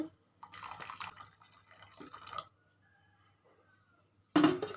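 Boiled milk poured into a simmering rose petal tea decoction gives a brief wet splash near the end, following a stretch of quieter kitchen sounds and stirring.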